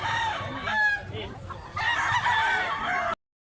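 A big two-year-old pumpkin sweater gamecock crows close by in two strained bursts separated by a short gap.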